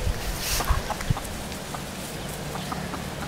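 A hen clucks a few short times close by, in the middle of a nest of chicks during a brooding period, against a faint steady background hiss.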